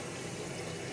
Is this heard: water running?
yes